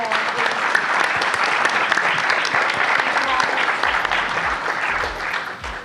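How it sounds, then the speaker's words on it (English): A room full of people breaks into sustained, dense applause at a wine sales event, the clapping loud and continuous throughout with no speech over it. "can we please, a round of applause to this wonderful"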